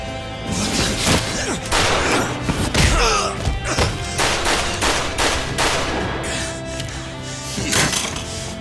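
Gunfire in a cinematic video game shootout: a dense barrage of loud, close shots and heavy thuds comes in rapid bursts, with brief voices in the mix.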